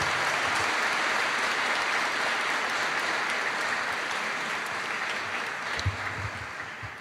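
An audience at a gathering of worshippers in a school hall claps steadily, a broad, even wash of applause that holds for several seconds before easing slightly toward the end.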